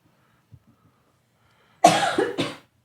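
After a near-silent pause, one person coughs twice in quick succession, loud and close, the second cough shorter.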